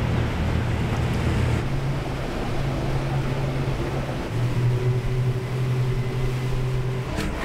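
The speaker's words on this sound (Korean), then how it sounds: "저희 그 300마력짜리 엔진이 2개여가지고 빠릅니다." A small crab gillnet boat with twin 300-horsepower engines speeds across open sea, its steady low engine drone running under continuous wind and rushing water, with no voices.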